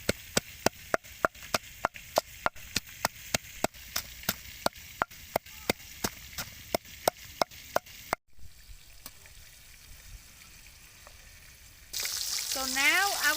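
Regular, sharp knife chops on a board come first, then garlic and chili fry in hot oil for a spicy chili sauce, giving a steady, moderate sizzle that swells louder near the end.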